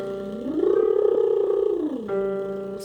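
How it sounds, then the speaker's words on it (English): A singer's gentle lip buzz warmup sliding up an octave, holding, and sliding back down, a soft buzzing hum heard close, followed by a sustained piano note underneath. "We're going to do a lip buzz."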